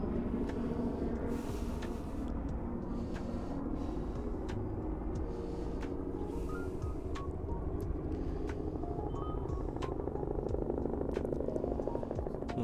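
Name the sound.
helicopter passing near Mount Aso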